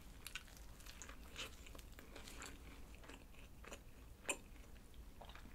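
Quiet close-up chewing and biting of a McDonald's McCrispy creamy onion burger with a hard, cooled patty from delivery, soft crunchy bites repeating at an irregular pace, one sharper crunch near the end.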